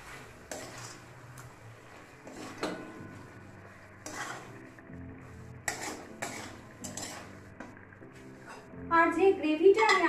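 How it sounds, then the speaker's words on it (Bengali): Chicken pieces stirred into gravy in a pot for Bangladeshi morog pulao, with intermittent clanks and scrapes of a metal spoon against the pot and faint frying, plus brief voices near the end. "ভালো করে এই গ্রেভির সাথে মিশিয়ে নেব।"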